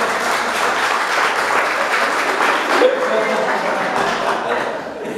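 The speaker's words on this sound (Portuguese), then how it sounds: "Palmas para ela." A church congregation applauds the speaker's daughter in a brief, steady burst of clapping, with some voices and a chuckle mixed in.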